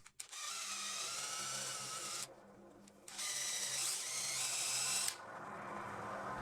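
Homemade DIY generator spun by a belt drive, a steady high-pitched whirring drone that runs loud and continuous, briefly drops back for about a second midway, then resumes before cutting off near the end.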